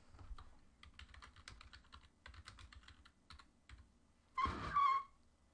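Typing on a computer keyboard, quiet irregular bursts of key clicks close by, ending in a louder clattering flurry.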